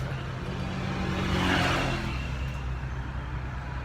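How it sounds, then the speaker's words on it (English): An open-air local bus rumbles along a Bangkok street, its steady engine drone swelling and fading as traffic noise sweeps past, heard from on board. "It's like an open air bus."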